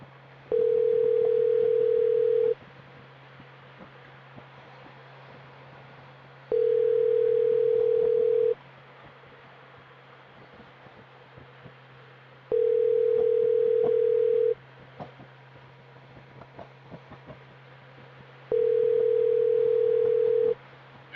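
An outgoing phone call rings unanswered: four evenly spaced, long ringback tones repeat about every six seconds over a faint steady hum, with no talking.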